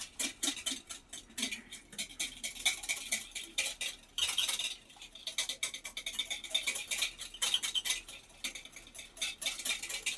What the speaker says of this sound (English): So at this point, we're just whisking those eggs in the pot